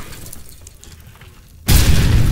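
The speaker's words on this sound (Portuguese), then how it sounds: "Explosão, mano." A sudden loud boom bursts in after quieter rumbling background, a heavy explosion in the video game Amnesia: The Bunker that stays roaring to the end.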